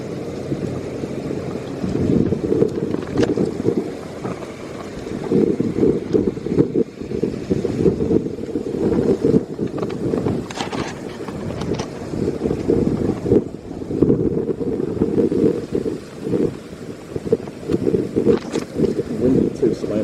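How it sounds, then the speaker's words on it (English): Heavy rain and gusty wind during a severe thunderstorm in Babylon, a loud rushing downpour with buffeting wind noise against the microphone in pulsing bursts, with a person talking throughout. "Absolutely pouring out here."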